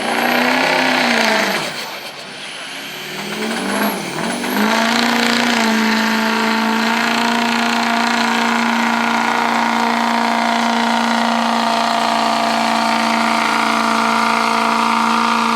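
Loud 6-liter diesel truck engine straining under load at a fair truck pull, a sustained heavy drone with a dip in revs early on before holding a steady high pitch.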